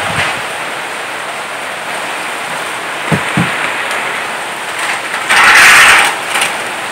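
Rain falls steadily at an orchard in a broad hiss, with a few soft knocks and a louder burst of spatter near the end; no voices.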